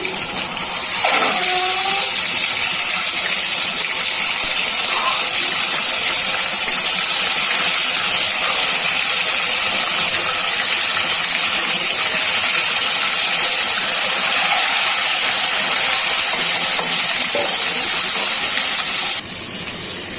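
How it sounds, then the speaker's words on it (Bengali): Eggs frying in hot oil in a wok for egg korma give a loud, steady hiss and sizzle that runs unbroken throughout, with no talking. "একে একে ডিমগুলো দিয়ে দিচ্ছি"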